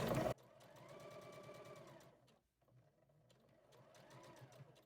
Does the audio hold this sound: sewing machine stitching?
yes